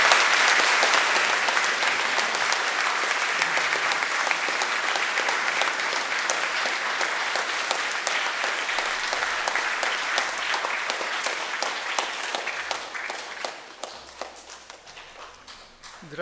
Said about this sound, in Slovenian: dajmo mu še en aplavz, kot se spodobi